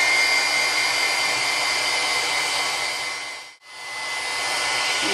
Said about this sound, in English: And then I'm gonna use my heat gun here.